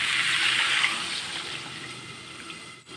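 Water is poured into a pan of potato and mango curry on the stove, a steady close splashing pour that holds for about three seconds and then breaks off.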